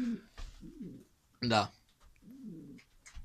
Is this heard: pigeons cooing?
yes